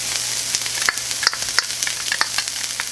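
Minced garlic from three cloves and about two slices of chopped onion fry in a pan, giving a steady close sizzle broken by scattered sharp crackles and light stirring clicks, with no voice.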